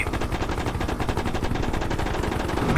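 A helicopter's turret gun fires in a Hind flying tank combat game. It is a continuous, rapid, loud burst of automatic fire that holds steady for several seconds with no talking.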